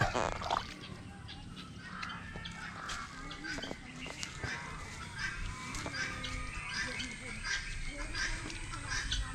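Ducks on a rural Filipino farm plot, their calls mixing with other farmyard fowl in a busy outdoor scene while people talk throughout.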